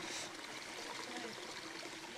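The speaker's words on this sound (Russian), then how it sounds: "А тут вообще горная река." A mountain river flows in a forest near Yalta in Crimea, giving a steady rushing, babbling stream sound at moderate distance with a faint voice mixed in.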